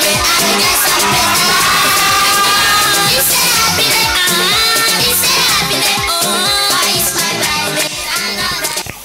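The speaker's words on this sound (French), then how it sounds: "Chers parents, encourageons Espoir Mengi avec vos applaudissements" An audience of parents at the Yekola children's competition cheers and applauds for contestant Espoir Mengi, a loud, continuous wash of crowd noise lasting several seconds.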